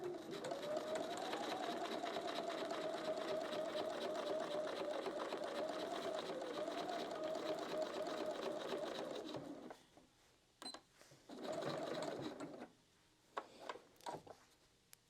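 Sewing machine quilting a fabric flip-flop wall hanging, a close steady mechanical hum and rapid needle chatter running for several seconds, then stopping, followed by short bursts of stitching and a few clicks.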